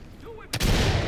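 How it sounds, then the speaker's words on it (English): A single loud gunshot blast goes off in the tactical SWAT shooter Ready Or Not after a quiet, hushed stretch, followed by a dense sustained roar of firing and echo. "Oh, they're shooting. They're shooting."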